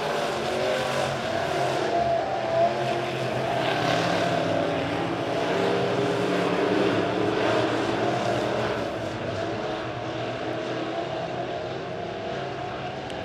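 Midwest modified race cars in a heat race at Springfield Raceway, a steady continuous engine roar from several cars spread out around the track, loud and sustained without a break.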